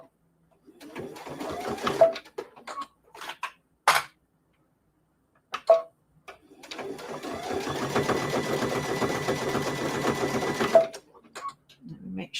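An embroidery sewing machine runs at slow speed while stitching a fabric bowl cozy, its needle chattering in short bursts and then in one long, steady run of several seconds, with brief pauses between and occasional talk.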